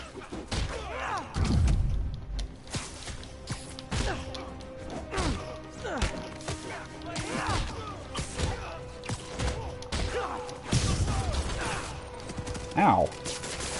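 Gunfire and brawling from thugs in the PS4 Spider-Man game: scattered sharp shots and heavy impact thuds and smashes burst repeatedly across the stretch, loud and busy, with voices talking over the action.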